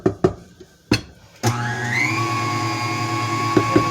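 An electric mixer starts up after a few light clicks and knocks, whirring into a steady, loud motorized hum as it beats banana pudding cupcake batter, close and continuous.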